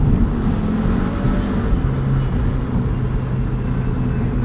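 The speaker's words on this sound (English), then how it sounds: "turbo is louder than the exhaust by a lot" A 2025 MINI John Cooper Works Convertible accelerates hard, its turbo whooshing louder than the exhaust over a steady, close engine drone and road rumble, with no talk.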